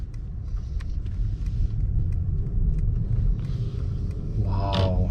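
A 2023 Mercedes-Maybach S680 pulls away, giving a steady low rumble from inside the cabin that grows slightly fuller near the end as it gathers pace.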